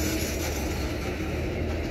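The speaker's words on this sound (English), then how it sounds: "So there's another train." A freight train passes close by with a steady, loud rumbling roar of wheels and cars rolling along the rails, alone without voices.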